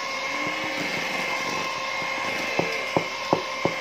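An electric hand mixer whirs steadily while beating soft butter dough for nastar cookies, with a few sharp rhythmic knocks of the beaters against the bowl near the end, no voices.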